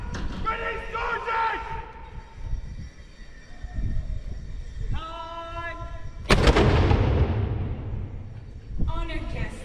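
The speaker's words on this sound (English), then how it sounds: "the GoPro doesn't do the sound of this cannon justice" A cannon fires a blank round at Fort Henry, a single loud blast with a long fading rumble, set amid talk and brass or fife-like tones before and after.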